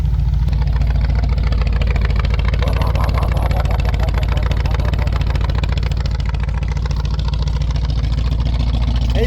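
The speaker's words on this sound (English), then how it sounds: "Alright, 300 horsepower. I didn't realize that. This is it idling." A 300-horsepower hot rod engine idles close by, a loud, steady low rumble with an even pulsing beat that holds without change from start to finish.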